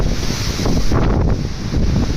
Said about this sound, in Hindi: हैवी विंड है, हैवी विंड की वजह से काफ़ी ज़्यादा ठंडा हो गया मौसम।